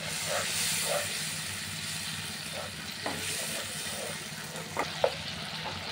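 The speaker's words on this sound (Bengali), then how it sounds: "সরষা দিয়ে এই জলটা দিয়ে দিলাম।" Mustard paste in a hot pan as water is poured in for a mustard kasundi fish curry, a soft hissing sizzle with steam, stirring knocks and a few spoon clicks, fairly quiet.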